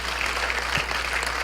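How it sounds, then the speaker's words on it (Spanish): Steady applause from a church congregation, a dense even patter of clapping filling the room with no voices on top. "Démosle un buen aplauso al Señor con todo nuestro corazón"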